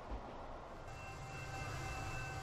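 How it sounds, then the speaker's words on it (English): Trains pulling out of a station in the video game Transport Fever give a steady, continuous low rumble with faint sustained tonal hums on top, holding an even level throughout. "I hear other trains leaving the station"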